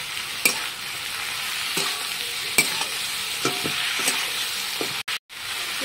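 Mixed vegetables frying and being stirred in a kadai: a steady sizzle runs throughout, broken by occasional scraping strokes of the spatula, with a brief dropout near the end.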